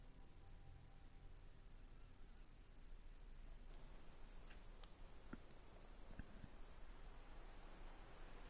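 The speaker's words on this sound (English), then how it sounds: "Yeah, it's raining." Steady rain falls in the video game Fallout 76, a soft, even hiss of rainfall throughout with a few faint clicks and taps near the end.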